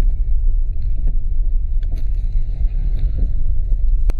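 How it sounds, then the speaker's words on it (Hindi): A Mercedes E250 on a test drive, with rough road noise and a steady engine and tyre rumble under scattered sharp knocks and rattles from the suspension near the right wheel. "गाड़ी में राइट साइड के व्हील के पास खड़ खड़ खड़ खड़ ऐसा आवाज आ रहा है।"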